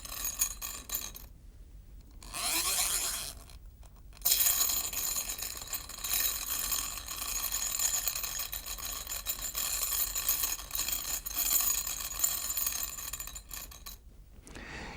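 Steel washers slightly larger than the bolt spin and flutter down a magnetized bolt, giving a faint, continuous metallic whirring and rattling that comes and goes in bursts, with no talk.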